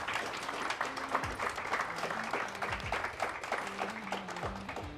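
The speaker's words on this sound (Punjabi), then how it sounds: "ਇੱਕ ਵਾਰ ਜ਼ੋਰਦਾਰ ਤਾੜੀਆਂ ਆਪਣੇ ਪੈਸ਼ਨ ਦੇ ਲਈ।" A studio audience at a televised cooking competition grand finale bursts into loud, sustained applause, dense clapping filling the space steadily for the whole stretch.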